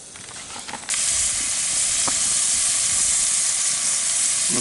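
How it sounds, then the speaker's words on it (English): Four eggs and two slices of cheese sizzling in a pan, a bright, loud, steady hiss that bursts in after a short clatter and holds constant with a few small pops. "And there it is, starting to sizzle."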